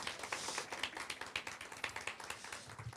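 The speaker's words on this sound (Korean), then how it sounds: "우리 다시 한번 박수로 감사합니다." Quiet, scattered clapping from a congregation at a December 2022 Korean church praise service, a brief patter of hand claps heard faintly from a distance with no talk over it.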